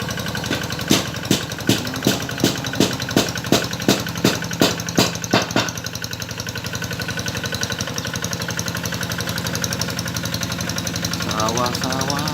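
A tractor ploughs a flooded rice paddy. Its engine thumps in a steady, rapid knocking rhythm for about five seconds, then settles into a continuous rumbling drone close by.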